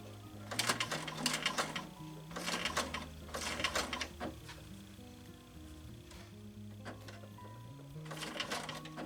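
A sewing machine stitches leather in reverse, running in short, faint, rhythmic bursts of mechanical chatter separated by pauses, with a low hum in the background.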